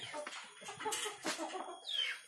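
Chickens cluck and chatter inside a semi-open coop with a cement floor and bamboo sides hung with netting, a steady run of short calls close by with brisker bursts throughout.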